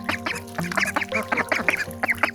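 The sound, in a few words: Cayuga ducks quacking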